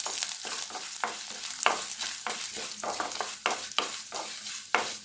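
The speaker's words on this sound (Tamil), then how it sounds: "இப்போ உளுந்தும் நல்லா வறுபட்டுட்டு இதையும் ஒரு பிளேட்டில் மாற்றிக்கலாம்" Black urad dal roasting in oil in a pan for a thuthuvalai thuvaiyal, a steady sizzle broken by regular scraping strokes of a spoon stirring the lentils, close and continuous with no talk.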